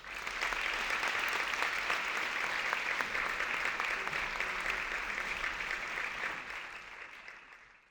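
Steady applause from an audience greets a speaker coming onto the stage, a sustained wash of clapping at moderate distance that gradually fades out at the end.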